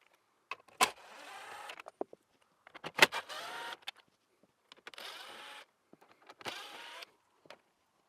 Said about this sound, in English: so once the screws are removed,